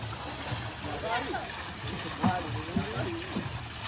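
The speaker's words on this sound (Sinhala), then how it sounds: "වතුර පාරක් යනවා" Water in a village stream in Korea flows and splashes in a steady, fairly quiet stream while people talk over it.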